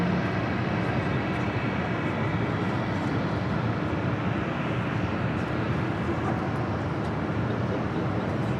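Jet aircraft at LAX on runway 25 right, a steady, loud broadband roar of engines that holds evenly throughout, with no talk.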